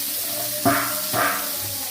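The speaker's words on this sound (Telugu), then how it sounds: "నెక్స్ట్ చేపల ఫ్రై. ఇది తిరిగేసుకోవాలి." Fish fries in a pan with a steady, loud sizzling hiss, broken by two short, louder surges of spattering.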